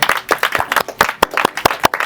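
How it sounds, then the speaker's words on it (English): A small audience at an HIV awareness event in Zurich claps in sparse, distinct bursts, individual hand claps standing out separately rather than merging into a roar, close and moderately loud. "Big applause"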